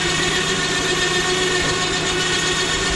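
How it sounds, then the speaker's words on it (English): A truck crane driven by remote control lifts a generator, giving a steady, droning engine and hydraulic hum that holds at an even level throughout with no talking. "We're going to lift up the generator crane with a remote control"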